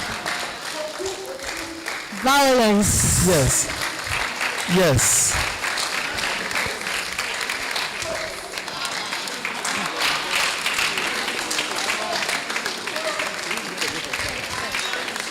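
An audience at a university debate championship claps continuously, a dense patter running throughout while voices speak over it.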